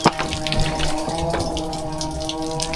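Water gushes through a PVC pipe at a house under construction on a farm, a continuous splashing flow with a resonant tonal ring, fairly loud and close with no talk over it.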